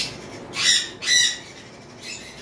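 An adult male lutino cockatiel among other pet parrots, giving two sharp, loud squawking calls in quick succession, followed by a fainter third call.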